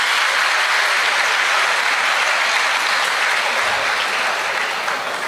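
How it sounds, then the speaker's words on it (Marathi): A birthday crowd bursts into loud, sustained applause, a dense wash of many hands clapping steadily for the full stretch with no voices rising above it. "सगळ्यांनी एकदा जोरदार टाळ्या वाजवा त्यांच्यासाठी"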